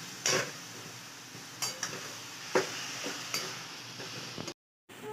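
Grated coconut and jaggery mixture dry-frying in a pan over medium gas, with quiet scraping and stirring strokes against the pan, a few sharper clinks, and a faint sizzle underneath.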